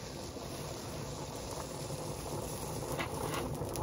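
Pasta water boils hard in a saucepan on the stove, a steady dense bubbling and hissing close by that holds at an even level throughout, with no talk.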